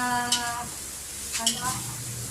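Ground meat in a frying pan gives off a soft sizzle with light scraping and stirring, while a voice and tonal sounds run over the cooking noise.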